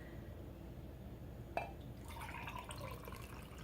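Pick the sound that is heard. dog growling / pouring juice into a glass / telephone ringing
pouring juice into a glass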